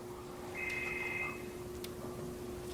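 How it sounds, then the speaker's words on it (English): A phone goes off in the room during a commercial real estate talk. It gives a short electronic tone lasting about a second, faint and a little distant, over a constant room hum. No one speaks. "Someone's got their phone on."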